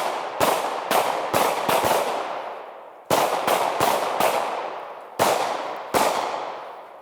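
Gunshots fired during a shooting-while-moving drill on a range, in loud sharp bursts of two to four rapid shots separated by short pauses, each crack trailing off in echo.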